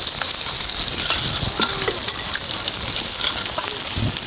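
Fish fries in hot oil for a crispy fish fry, giving a loud, continuous crackling sizzle with scattered pops and sputters throughout, with faint voices in the background.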